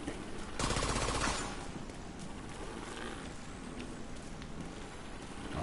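Gunfire in The Division 2 opens with a loud burst of rapid automatic shots, followed by softer scattered game noise and distant crackling, with no voices.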